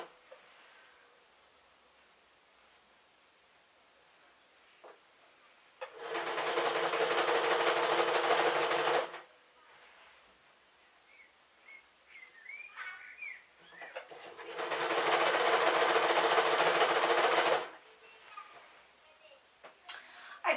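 A sewing machine stitches a pink dress in two steady, buzzing runs of about three seconds each, close and fairly loud, with quiet room sounds and faint chirps between them.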